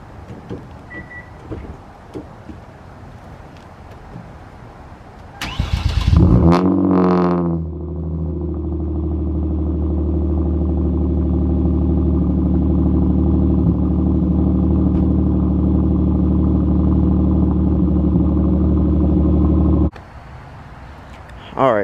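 A Hyundai Genesis Coupe engine cranks and fires into a loud cold start, settling into a steady, droning high idle for about twelve seconds nearby, with voices faintly before it catches.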